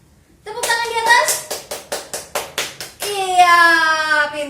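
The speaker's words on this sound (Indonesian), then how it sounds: "Tepuk tangan di atas." Children at a Sunday church service clap their hands overhead in a quick, regular run of about eight close, crisp claps. Spoken voices come just before and right after.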